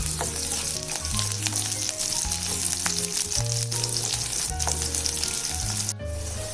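Curry leaves hiss and sizzle steadily in hot oil with chicken wings for a roast, with occasional stirring, loud and close under a continuous backing of tonal music.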